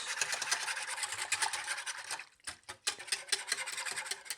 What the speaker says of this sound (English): And now we're gonna whisk well, so we don't have any lumps.